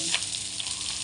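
Chopped onion and garlic frying in hot oil in a wok, giving a loud, dense, continuous sizzle with a brief stirring scrape, close up.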